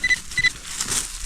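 Metal detector signal heard during a dig in Norway: two short, sharp electronic beeps close together, followed by a brief rustle.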